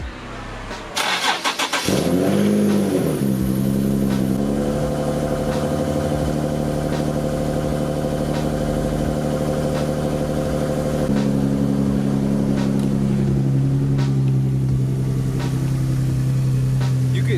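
A Nissan 370Z engine with aftermarket intakes cranks and fires on a cold start, then settles into a loud, steady idle with a deep rumble and a slight rise in pitch partway through.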